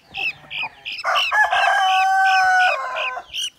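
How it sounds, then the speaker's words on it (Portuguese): A rooster crows loudly and close by, one long drawn-out call, with hens clucking in short bursts before and after. "Aqui o galo aqui."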